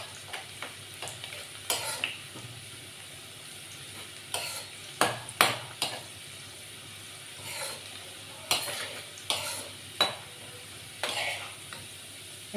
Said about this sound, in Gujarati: આપણી ડુંગળી બ્રાઉન થવા આવી છે.